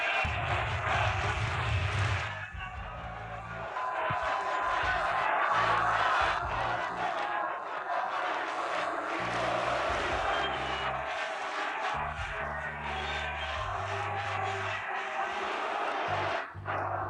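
A large boxing crowd in Poland roars and chants continuously at a heavyweight fight, a dense, loud wall of voices rising and falling over the whole stretch.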